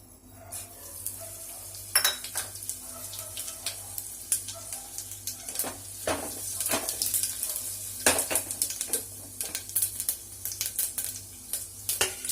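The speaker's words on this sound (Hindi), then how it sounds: "ऑयल गर्म होने के बाद फ्रेंड्स इसमें हम फोरन डाल देंगे।" Panch phoron and asafoetida tempering spattering in hot oil, a close crackling sizzle broken by sharp metal clinks and scrapes of a utensil stirring in the pan, with no one speaking.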